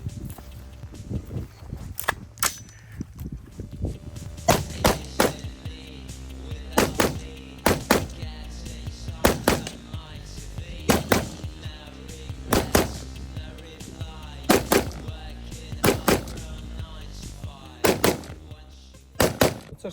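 Loud, sharp gunshots crack at irregular intervals over a low rumbling background at a shooting range, close by, with several bursts of rapid fire.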